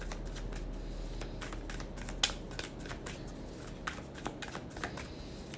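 Tarot cards being shuffled and drawn from a deck, a soft continuous riffling and sliding with a few sharper flicks and taps, close and fairly quiet, with no talking.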